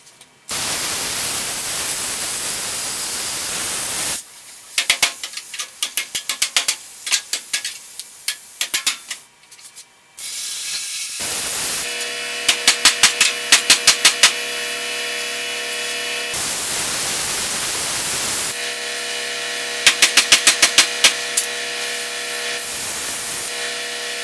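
Plasma cutter slicing through the body of a 1966 Mustang convertible, a harsh hissing roar in several long bursts broken by short pauses and crackling starts, close and loud with no talking.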